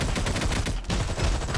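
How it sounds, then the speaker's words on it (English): Dense, continuous gunfire in the Marvel Heroes Omega video game, loud rapid bursts running throughout with a brief dip in the middle, no talking. "I'm not sure how none of those cops died just with all those bullets flying"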